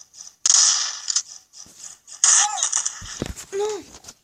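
A vacuum cleaner in a video game gives two loud, whooshing, whining bursts. Mechanical clanks and a rising electronic tone follow, with a voice near the end.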